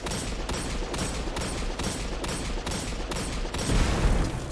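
Rapid gunfire and a grenade blast in the video game Destiny 2, with bursts of shots recurring steadily and a heavier, deeper explosion swelling near the end, loud and continuous with no talking.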